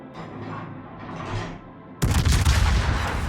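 Warship shell fire in a naval battle game: a muffled rumble of distant guns, then a heavy booming salvo bursts in loud and close, rolling on with dense rumbling blasts.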